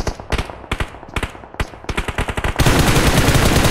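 Rapid gunfire spray in a battle royale video game, quick bursts of sharp shots in an uneven rhythm, loud and close, ending in a dense wash of noise.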